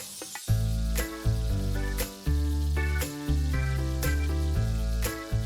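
Chopped onion and tomato frying in a pan, a steady loud sizzle under a plucked melodic music track, close and continuous with no speech.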